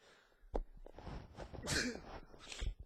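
A single person's sneeze, loud and close, arrives as a sharp burst near the middle, with breathy noises and small sounds around it in a quiet room.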